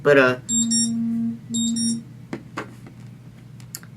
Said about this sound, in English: that was my alarm to feed the dog.